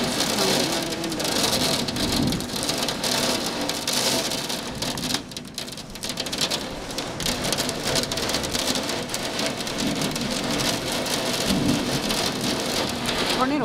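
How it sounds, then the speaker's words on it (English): Heavy storm rain pounds against a glass window in a steady, dense roar that runs without a break, loud and close, with a low rumble of thunder underneath. "the rain is just pounding on the window"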